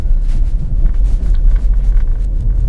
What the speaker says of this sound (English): let's see how the Mach-E does on our neighborhood bumpy road